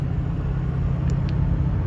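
A Ford 6.0 Powerstroke truck engine running with a steady, deep low rumble throughout, close and continuous, with no talking over it.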